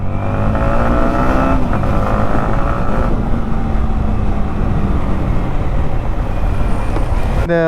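A Yamaha MT-15 V2 motorcycle engine revs hard and accelerates close up, its loud, continuous drone climbing in pitch with some wind rush over it and no voices.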